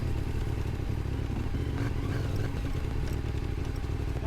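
CF Moto motorcycle riding on a winding road from Lomondao to Arakan, with a steady, loud engine drone, continuous wind buffeting and rattling clatter throughout.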